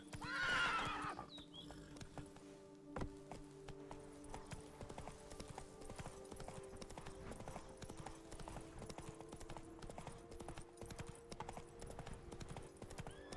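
Horse hooves clip-clop at a steady gallop in The Witcher 3 video game, opening with a loud close neigh, then continuous rhythmic hoofbeats with a brief voice over the start.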